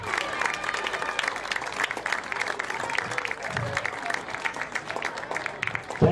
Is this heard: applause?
yes